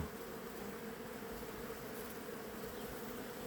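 A steady, dense buzzing of many bees, continuous and fairly close, with no voices and no pauses.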